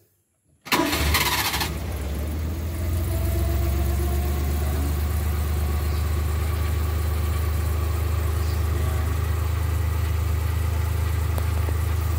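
A Suzuki Multicab F6A engine cranks and fires after a moment of silence, then settles into a steady, close idle for an alternator test.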